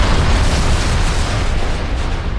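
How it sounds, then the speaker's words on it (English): A loud explosion sound effect, a deep, heavy rumbling boom that fills the whole moment and slowly eases off, heard alone without speech. "one spark could trigger a massive explosion"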